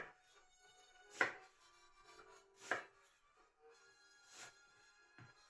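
Knife chopping onion on a cutting board in a home kitchen, a few distinct sharp chops spaced about a second and a half apart, close and moderately loud with quiet between.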